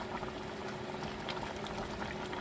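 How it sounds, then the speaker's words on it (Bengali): Bottle gourd curry boiling steadily in a pot on the stove for lunch, a constant bubbling simmer with dense liquid burble and no voices. "আমি লাউ তরকারিটা বসিয়েছিলাম। দেখুন প্রায় সিদ্ধ হয়ে আসছে"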